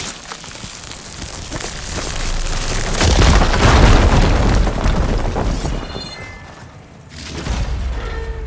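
An igniter blows up a fire gleam in Horizon Forbidden West, a deep rumbling blast that swells to a loud roar, fades, then flares again with crackling debris.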